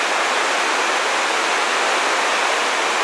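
Mountain streams flowing together in the Ruahine ranges, a dense, steady rush of water, loud and close with no pauses or other sounds.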